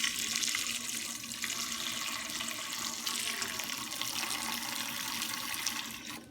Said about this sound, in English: Let's put the water in.